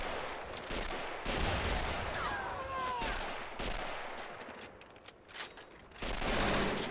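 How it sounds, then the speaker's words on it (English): MG-42 machine gun fire in a World War II beach-landing video game, heard as distant bursts of rapid gunfire with several sharp reports against steady battlefield noise. "Oh, do you hear that back there? That's an MG-42."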